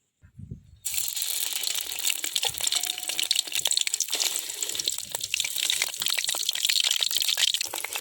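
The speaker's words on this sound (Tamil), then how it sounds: "அரைச்சி வச்ச மாவை எண்ணெய் காஞ்சிருச்சு போடலாம்." Ground batter hits hot oil and fries with a loud, continuous sizzling hiss that bursts in suddenly after a quiet start and keeps crackling steadily.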